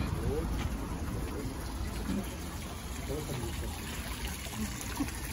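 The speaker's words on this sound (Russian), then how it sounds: "Лев плюется какой-то водой душистый." A lion-head fountain spouts non-drinking mineral water in a resort town, giving a steady trickling splash under outdoor ambience.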